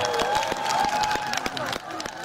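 Applause at a large outdoor Big Show concert in Goheung as the county governor comes up: a dense, sustained patter of many hands clapping, fairly loud throughout, with a crowd murmuring and a voice speaking over it.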